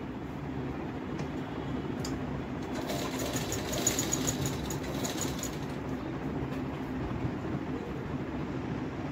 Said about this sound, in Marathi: सर्वप्रथम आपण इथून शिलाई मारून घेणार आहे गळ्याच्या साईडने.